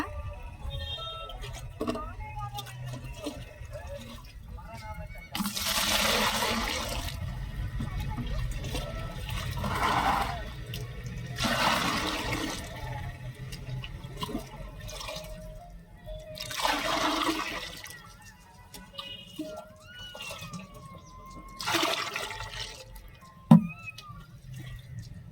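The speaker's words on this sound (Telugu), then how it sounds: "ఈ ట్వంటీ లీటర్స్ బకెట్ లో వాటర్ అనేది మనం పోసుకుందాం" Water poured into a 20 litre bucket for mixing liquid plant fertilizer, heard as several bursts of rushing, splashing flow a few seconds each, separated by quieter pauses with background clatter.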